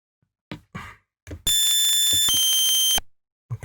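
A bright, buzzy chiptune synth tone using a sync buzzer instrument sounds for about a second and a half, shifting pitch once midway, after a few short clicks.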